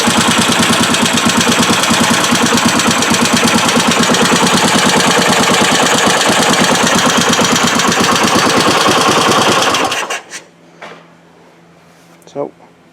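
A Suzuki SP400 single-cylinder motorcycle engine, recently repaired after broken kickstart gears, idles loud and close with a rapid, steady thumping beat, then cuts off abruptly near the end, leaving a few faint clicks and knocks.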